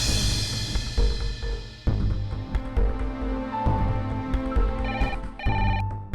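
A telephone rings over a dense music score in a Hindi TV drama scene, its tone faint and partly buried beneath the music.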